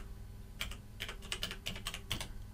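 Typing on a computer keyboard, a run of about a dozen light, close key clicks in uneven bursts over a quiet background, with no talking.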